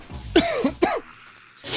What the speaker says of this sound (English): ever since I got ill the other week, I have not been able to shift this cough